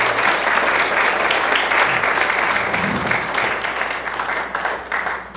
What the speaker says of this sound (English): How about one more round of applause for all our candidates for county commission?